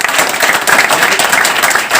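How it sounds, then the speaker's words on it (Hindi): Loud, dense applause from a seated audience at a leaders' gathering in Faridabad, steady close clapping filling the whole stretch with no voices on top. "मैं चाहता हूं सभी के लिए जोरदार ताली बजाएं"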